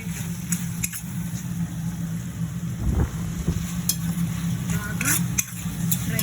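Chicken curry cooking in a pan, frying steadily with a continuous sizzle while being stirred, a few scraping strokes standing out near the middle; close and moderately loud, with no talk over it.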